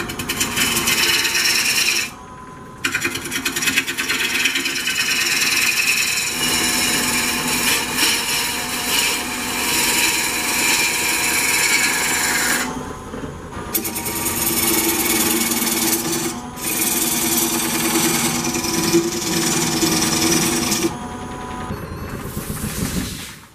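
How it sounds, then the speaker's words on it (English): A bowl gouge cuts a walnut bowl blank spinning on a wood lathe, giving a loud, continuous rough scraping hiss with brief pauses between passes; no talking. "I'm just going to use the same bowl gouge to do that and just kind of bring the curve around a little bit"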